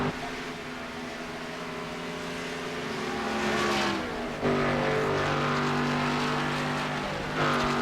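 Race car engines roar in the iRacing video game at Chicagoland, a loud sustained drone with steady pitch shifts as the car runs laps and other cars pass, without any voice.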